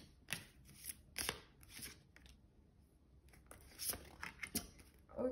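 Oracle cards shuffled by hand for a tarot reading, a quiet run of papery riffles and snaps in short bursts, close and alone.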